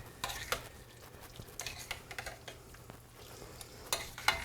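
Fettuccine being stirred through a cream sauce in a pan, with scraping and soft sizzling under a steady kitchen hum, several brighter utensil clinks near the end; nobody talks.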